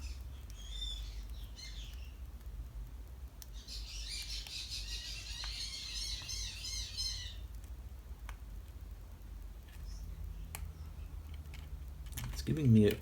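Pet parrots squawk and chatter in a room with a hum running underneath, giving a long harsh bird call and scattered short squawks, and a sharp sound closes the sequence.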